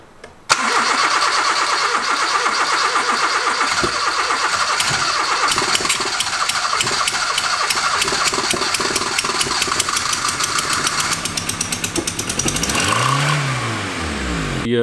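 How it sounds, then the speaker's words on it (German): A Subaru EJ6 car engine cranks and catches, then immediately races to a high, sustained rev that holds loud and strained for many seconds before dropping and settling, with no voices over it. "Wie ihr hört, dreht das Auto direkt hoch"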